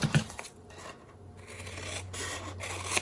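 Scissors cutting through a paper candy box template, giving soft rubbing, snipping strokes at close range, a few sharper cuts near the start and end, with no talking.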